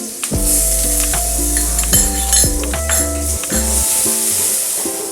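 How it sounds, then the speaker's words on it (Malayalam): Crushed ginger and garlic sizzle in hot oil in a Kerala-style green peas curry, a loud, steady frying crackle close by. Repeated metal clinks and scrapes of a utensil against the pan ring out over the sizzle. "ഇഞ്ചി വെളുത്തുള്ളി നന്നായി ചൂടായി നന്നായി മണം വന്നിരിക്കുകയാണ്."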